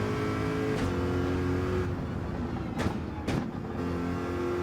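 A Corvette race car at Le Mans in Gran Turismo 7 coasts off throttle, a steady droning engine hum with two brief sharp bursts of noise near the end, heard alone and close.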